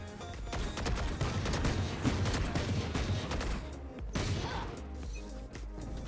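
Dense gunfire in a first-person shooter game, rapid overlapping shots and impacts forming a loud, continuous barrage with a brief gap near the middle.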